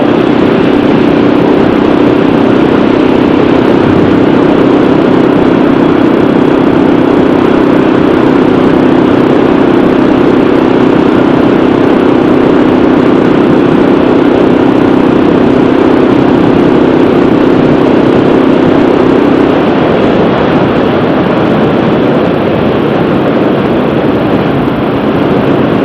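A motorcycle engine drones steadily while riding, a loud continuous buzzing hum with wind rush that holds level for the whole stretch and eases slightly near the end, no talk.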